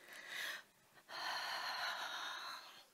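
During a Pilates exercise, a person breathes in audibly twice, close and airy: one short intake, then a longer, sustained inhalation after a brief pause.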